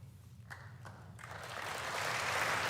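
Applause from the audience at the 2019 State of the Union Address, faint and distant at first with a couple of isolated claps, then building into a soft, steady wash of many hands clapping.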